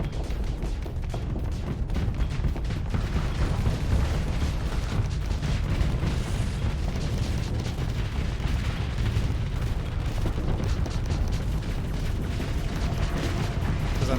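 A space station gets destroyed in the video game Starsector, with continuous dense rumbling weapon fire and explosions forming a loud, unbroken roar that lasts throughout.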